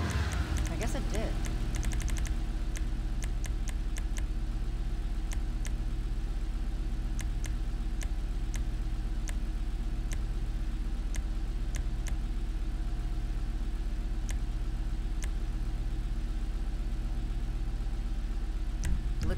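A turbocharged car engine in GTA Online hums steadily at idle with faint revving, accompanied by a rapid series of sharp clicks early on, while voices speak over it.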